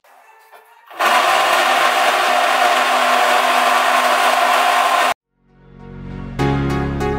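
A blender grinds kimchi ingredients with shrimp and lemon juice into a fine paste, a loud steady motor whir lasting about four seconds, then cutting off before a second motor burst starts.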